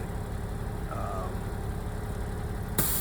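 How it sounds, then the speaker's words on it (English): A bucket truck's engine runs steadily to hold its raised boom forty feet up, a low, even idle that drones continuously throughout, ending with a short louder bump near the end. "excuse the noise, the truck's got to be running to keep the boom up"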